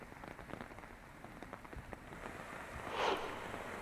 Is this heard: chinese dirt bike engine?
no